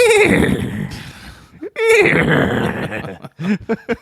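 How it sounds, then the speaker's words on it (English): Two loud, close horse whinnies ring out, one at the start and another midway, followed by short snorting calls during a fantasy tabletop role-playing game session. "The horses are nervous."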